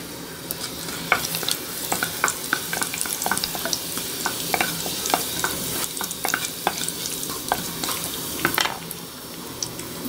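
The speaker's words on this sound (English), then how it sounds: "it's very hot I'll put the curry leaves in it" Curry leaves hit very hot oil as the tempering for an amla (gooseberry) rasam, giving a close, steady sizzle with frequent sharp crackles and pops. Stirring sounds and light utensil clinks run throughout, with no speech.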